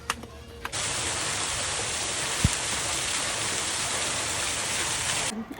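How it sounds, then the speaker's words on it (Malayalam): Steady, heavy rain hisses continuously at Chin Swee Caves Temple in Malaysia, a dense wash of noise that starts abruptly and stops near the end, with a brief thud partway through. "മഴ കൂടി മഴ കൂടി വാ"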